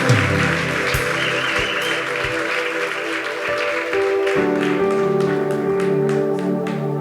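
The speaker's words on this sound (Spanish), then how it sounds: "Dale un fuerte aplauso a Jesús." A church congregation claps and applauds in a steady wash while sustained keyboard or organ tones ring underneath, the tones growing fuller partway through.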